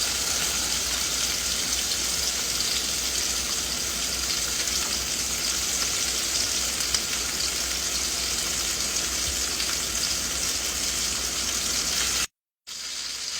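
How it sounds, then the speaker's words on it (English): Butter melting in a pan for a sauce base gives a steady, close sizzle and hiss that holds evenly for about twelve seconds, then cuts to a brief silence before resuming. "In my pan, I'm going to add 3 tablespoons of butter."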